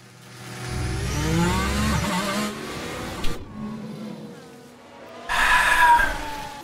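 An F1 race car in the F1 Manager 24 video game revs and pulls away with engine whine and tyre skid, loud at first, dipping, then surging again at the end.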